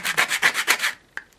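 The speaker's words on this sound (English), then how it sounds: "give it a bit of a sandpaper on the sand block" Sandpaper on a sand block rubs over a surface roughened after old ink was cut off, six quick loud back-and-forth strokes in a steady rhythm, then a pause and a single sharp tap near the end.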